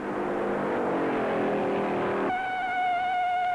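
Stock cars roar past at the 1956 Darlington Southern 500, a loud engine drone that suddenly shifts to a higher, clean whining pitch as a car passes.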